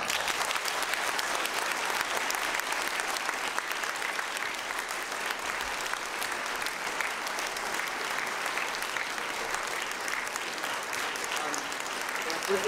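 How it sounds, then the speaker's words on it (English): A large audience applauds steadily and loudly at a live conversation event with a television writer, a dense sustained wash of clapping that holds without a break. "that round of applause shows how much we've all really greatly enjoyed and appreciated this"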